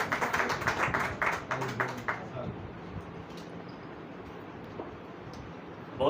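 Audience at a Hindi poetry gathering claps to welcome a poet, a brief burst of rapid clapping that dies away after about two seconds into quiet room noise.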